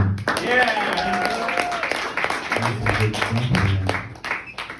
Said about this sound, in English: Let's give a round of applause to Leaky